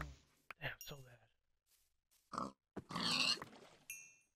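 Short blocky pig grunts from a Minecraft pig come in several separate bursts with gaps between them, close and fairly clear, with a few other game sounds mixed in.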